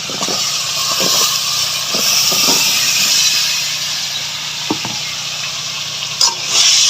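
Dried fish and potatoes stirred in a sizzling pan, a continuous frying hiss punctuated by scraping knocks of a spoon against the metal, without speech.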